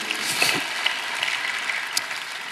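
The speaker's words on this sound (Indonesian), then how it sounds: "Berikan tepuk tangan kita untuk Tuhan kita." Congregation applause for God during a church service, a steady wash of clapping held at a moderate level through the whole stretch without speech.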